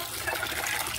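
Water pours steadily and close by into turkeys' drinking containers on a small farm, a continuous gushing splash with no voices.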